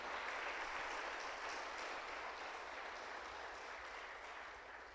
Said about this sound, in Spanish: Dale palmas al Rey